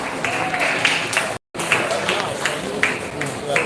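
Applause from an audience at a school debate final between Iganga SS and Holy Cross Lake View, a steady wash of clapping with a brief cut partway through and speech-like crowd noise mixed in.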